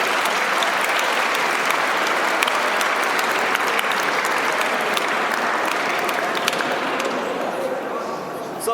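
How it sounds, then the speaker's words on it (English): Dense, sustained audience applause and cheering at a party speech, loud and unbroken for several seconds before easing slightly near the end, with no voices above it. "So big round of applause for getting in great shape and ending 2019."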